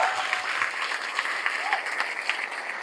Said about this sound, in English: Give a good clap to your own self.